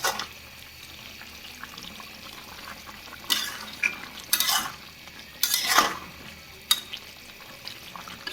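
Cumin seeds drop into hot oil in a home kitchen for a vegetarian vegetable dish, giving a low sizzle broken by several sharp bursts of stirring and clattering near the pan.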